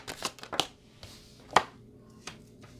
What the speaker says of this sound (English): Let's pull out the 4 cards and let's see.